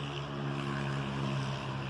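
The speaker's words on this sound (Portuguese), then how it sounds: "Passando uma moto aqui." A motorcycle runs close by, its engine drone steady and loud throughout, a strong low hum with rough overtones and no speech over it, heard in an outdoor spot during a knife-handle workshop.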